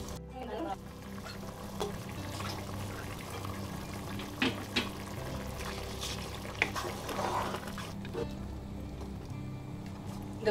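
A pot of rice boiling for prawn biryani, a steady bubbling simmer with occasional clinks and stirring knocks, close by and with no talk.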